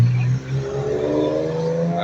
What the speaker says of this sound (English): There's the Porsche.